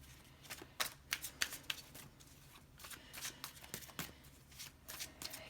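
Tarot cards being shuffled by hand in a quiet room, giving a run of crisp riffling bursts and soft flicks in an uneven rhythm, close and fairly faint, with no talk.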